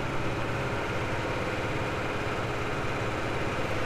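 A tractor engine runs steadily at high revs, around 2,000 RPM, on a hay harvest in the woods, giving a close, constant low throbbing drone with no pauses.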